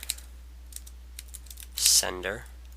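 Quick, irregular clicks of fingers typing code on a computer keyboard, close and crisp, with a burst of faster keystrokes before a voice starts speaking near the end.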